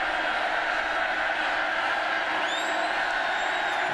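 A Baylor home stadium crowd roars continuously at a college football game, urging the defence on, with whoops and scattered whistles rising above the dense, loud wash of noise.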